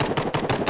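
Rapid gunshots from the Hide Online props-versus-hunters game come in four quick, evenly spaced, loud, close pops in under a second, with no talking.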